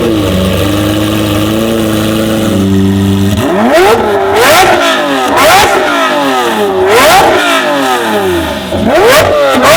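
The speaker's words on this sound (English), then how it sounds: "That's the loudest, the best sounding car" A supercar from a collection starts with a steady idle, then the engine revs hard several times in rising and falling bursts, close and very loud with nobody speaking.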